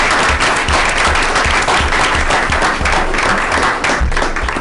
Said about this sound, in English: I'd like to just give them one more round of applause for coming out tonight